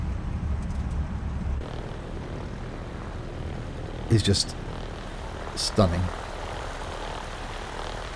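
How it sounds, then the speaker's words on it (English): A simulated Piper PA-38 Tomahawk propeller engine in X-Plane 11 drones steadily at low pitch while taxiing, with someone talking over it and a couple of brief louder bursts. "But that engine noise"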